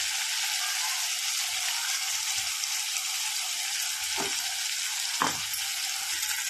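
Ground paste added to hot oil for a Tamil kara kulambu, giving a loud, continuous frying sizzle and crackle, with a couple of brief scraping stirs in the pan.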